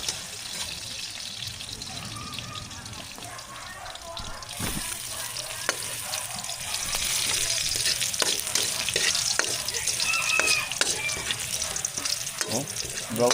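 Onions frying in a pan, a steady sizzle with occasional scraping clicks that grows louder toward the end, close by, with faint background voices.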